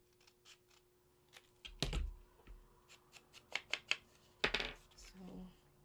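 Paper being trimmed for a journal envelope insert, with a few separate crisp snips and slides of paper spread across the span, close and fairly quiet against a faint background tone.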